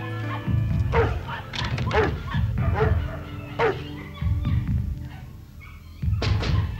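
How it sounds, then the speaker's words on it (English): A dog barks in sharp, repeated bursts nearby, with short gaps between the barks and a few softer whimpers. "Quiet down, you goddamn mutt."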